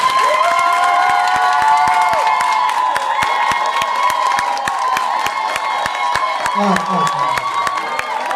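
A large crowd claps loudly and rapidly while voices cheer and shout over the applause.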